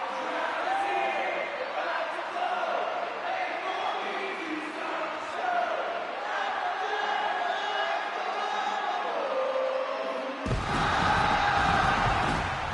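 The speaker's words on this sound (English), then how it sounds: "You hear the crowd singing his theme song." A large crowd in the video game WWE 2K25 sings Cody Rhodes' theme song together in a loud, reverberant arena roar, with cheering swelling near the end.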